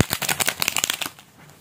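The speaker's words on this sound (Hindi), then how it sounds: "पहले हम कार्ड्स को थोड़ा सा अच्छा सा मिक्स कर लेते हैं।" Tarot cards shuffled by hand during a live reading, a dense rapid riffle of crisp papery flutters that runs for about a second, then fades out.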